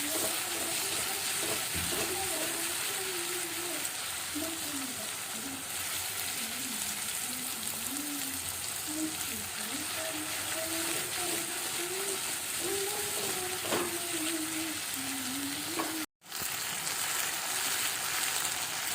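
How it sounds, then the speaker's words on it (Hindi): Ginger, garlic and green chili paste frying in a pan for aloo bhujia, a steady soft sizzle with occasional stirring scrapes under a continuous musical background. "जिंजर गार्लिक और ग्रीन चिलीज का 3G पेस्ट डाल दें। इनको भी अच्छी तरह से भूनें"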